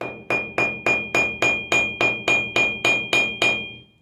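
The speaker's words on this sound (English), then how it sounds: "This is, I think, an 8-ounce ball peen. So, first step, just kind of tap that down" An 8-ounce ball peen hammer taps a rivet joining leather to metal with eleven sharp, evenly spaced metallic strikes, each ringing briefly before the next, loud and close with no voices.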